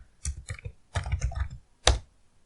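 Brief bursts of keystrokes on a computer keyboard while entering figures into an Excel spreadsheet: a quick cluster of clicks, a denser run of taps, then one louder single press, close and crisp.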